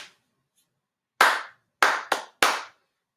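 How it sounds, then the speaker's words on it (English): Bare hands clap out a short rhythm for a music lesson, four crisp, close claps in an uneven pattern after a quiet start, with no voices. "I'll clap it again"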